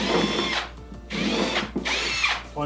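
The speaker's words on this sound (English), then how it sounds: "grab the drill bit that you drilled the hole with, put it on reverse, and just plunge" A power drill run in reverse while a drill bit is plunged into a drilled hole in a control panel, whirring in three close, loud bursts separated by short pauses.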